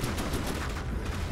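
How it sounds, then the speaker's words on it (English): Rapid autocannon fire from a small starter warship in a naval battle video game, a regular pulsing chain of shots over continuous background noise. "that auto cannon spam has proved to be deadly"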